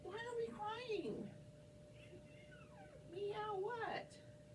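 A cat meowing indoors, two drawn-out plaintive calls separated by a pause, faint and close, over a low background hum.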